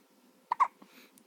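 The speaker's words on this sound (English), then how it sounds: "Those are big hiccups." A baby hiccups in a couple of quick, sharp, close bursts, followed by a soft breathy vocal sound in an otherwise quiet room.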